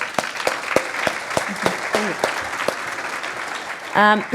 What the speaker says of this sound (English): One more big round of applause for Denise